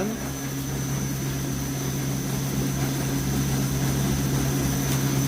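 An electric motor running during a wind turbine power-curve test, a steady mechanical hum with strong tonal whine and constant level throughout, no voices.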